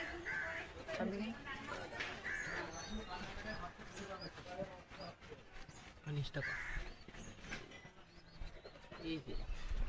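Soft, repeated cooing of racing pigeons close by, mixed with faint chatter and other low bird sounds throughout.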